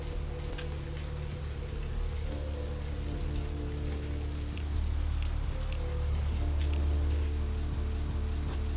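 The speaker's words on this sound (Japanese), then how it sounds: "雨降ってるね。" Steady rain falls in the video game Vampire: The Masquerade - Bloodlines, a continuous dense patter with a low rumbling wash beneath it, swelling slightly louder partway through, with no voices.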